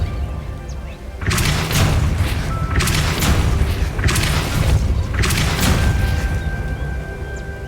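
Depulso spell cast in the video game Hogwarts Legacy, heard as a series of four loud booming blasts with rumbling tails, spaced about a second and a half apart over a steady game background.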